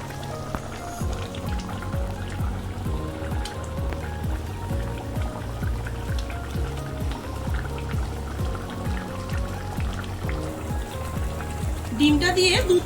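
Egg curry gravy for a dhaba-style dish bubbles in a pan over a raised gas flame, eggs simmering in the thick sauce; steady close popping and bubbling runs throughout beneath a voice talking, with a brighter clink near the end.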